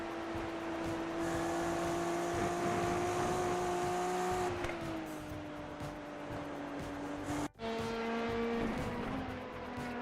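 LMP prototype race cars approach and pass on track at Watkins Glen during a six-hour race. A loud, sustained engine drone shifts in pitch, broken by one brief dropout partway through.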